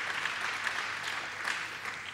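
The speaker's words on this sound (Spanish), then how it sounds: "un aplauso para Juan Rodríguez" Brief, steady wash of congregational applause at a church baptism, a soft continuous patter of many hands at moderate distance with no distinct individual claps.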